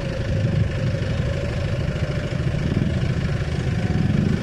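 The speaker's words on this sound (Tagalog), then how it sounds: "Ito na motor niya." A motorcycle engine idles steadily and fairly loud and close, a continuous low throbbing rumble with no change in pace throughout.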